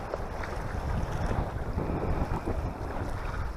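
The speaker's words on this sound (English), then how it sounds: "Wind going about 20 miles an hour today." Strong wind of about 20 mph gusts across Sangchris Lake while fishing, a dense low roar buffeting the microphone in steady surges, with no voices.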